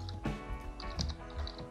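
Quick bursts of typing on a computer keyboard, close and fairly quiet, with several clustered keystrokes over a steady low background hum.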